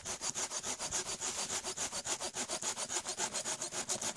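A saw blade cuts damp wood at a January bushcraft bivouac, a close, even rhythm of rasping strokes at about five per second that goes on without a break.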